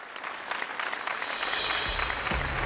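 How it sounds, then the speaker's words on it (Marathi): An audience applauds at a Marathi television show event, a loud continuous clapping that swells midway while a low rumble joins underneath toward the end. "जोरदार टाळ्या."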